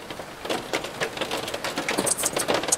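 Hailstones falling during a tornado storm, a dense irregular patter of small hard impacts striking a surface nearby, steady throughout with no talk.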